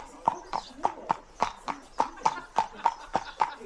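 Hooves clip-clop steadily on a road through a small village, a regular run of crisp, evenly spaced hoofbeats close by, with people talking quietly in the background.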